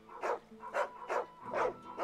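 A dog barks four times in a steady rhythm within the Final Fantasy XVI video game, each bark full and fairly close, with short quiet gaps between them.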